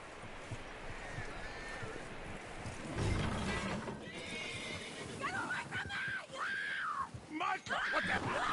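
A horse in a video game whinnies several times in high, wavering cries over outdoor background noise, with a loud thump partway through.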